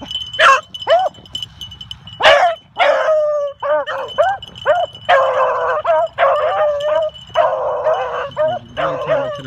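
A dog barks outdoors on an icy day, repeated yips and barks in an uneven rhythm, loud and close, with some whimpering tones between bursts.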